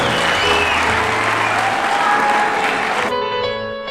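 Audience applauding Dr. Silumbe at a leadership event in Zambia, dense sustained clapping from a large crowd that cuts off abruptly near the end, leaving a faint ringing tone.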